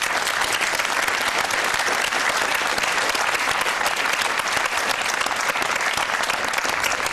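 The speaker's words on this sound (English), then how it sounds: "Is that a round of applause for Oxford?" A studio audience at a televised political debate breaks into steady, dense applause that continues without a break, with no talking.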